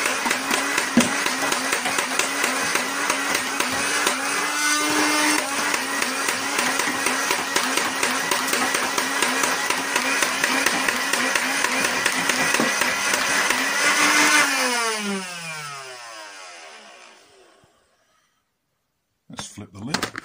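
A hopper-fed modded Nerf Rival Khaos blaster fires in a sustained loud whirring burst of flywheel motor noise with rapid ball shots, then spins down and goes silent before brief handling clicks.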